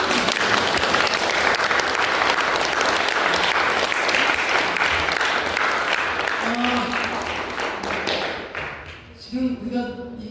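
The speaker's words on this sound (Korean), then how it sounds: "감사 박수를 한번 더 크게." A lecture audience at a spring humanities course on Mencius gives loud, sustained applause, which thins out near the end as a voice begins to speak.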